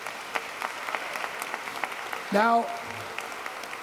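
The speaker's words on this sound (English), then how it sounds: "So let's give them a nice round of applause again." Audience applause at a city ceremony in Yonkers for a film and television academy, a steady patter of clapping from a crowd with a brief voice cutting in near the end.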